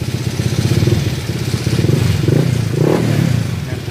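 A Honda Click 150 scooter with a 62mm tuned engine idles close by, its steady motor note layered with a constant metallic rattle and ticking clatter, and slight swells in revs toward the end.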